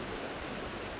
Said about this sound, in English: The stream's beautiful. This is a fast-moving section.